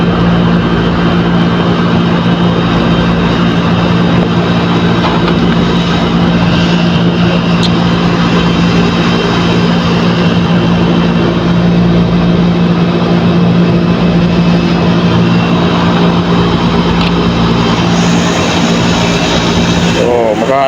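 An air conditioner unit runs during a compressor and fan test, giving a loud, continuous droning hum with a steady low tone, close by, with a brief noise burst near the end.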